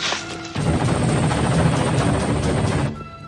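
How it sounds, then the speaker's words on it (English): Military helicopters roar overhead in a dense, loud, steady rotor-and-engine wash during a Rambo III action scene, rising abruptly after a brief lead-in and holding for several seconds. "These helicopters are having a hell of a time trying to find them on foot"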